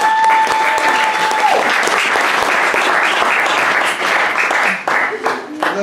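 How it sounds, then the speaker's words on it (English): Wedding guests applaud the newlyweds, Mr. and Mrs. Weston, at their reception in South Africa: a loud, steady wash of many hands clapping close by, with a faint tone fading out early and voices mixed in. "Please join me, first of all, a round of applause for the new Mr."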